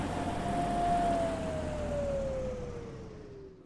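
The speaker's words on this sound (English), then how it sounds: "Sounds like an engine turning off." A train engine in a British Railway video game shutting down, its steady tone gliding slowly downward in pitch while the low rumble fades toward silence over a few seconds.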